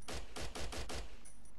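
Rapid gunshots fired at an object in the video game Blockade 3D, five or six loud, evenly spaced bursts in quick succession, followed by a brief quieter tail.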